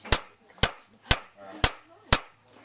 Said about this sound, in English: you're sharing the hammer blow between the blade and the anvil